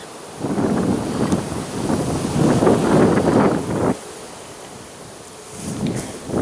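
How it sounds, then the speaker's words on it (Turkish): Gusty wind buffets the microphone in strong rushing bursts, easing briefly before gusting up again near the end. No voices. "Çok rüzgar var yine."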